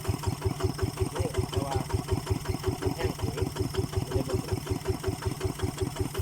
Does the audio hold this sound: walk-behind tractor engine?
yes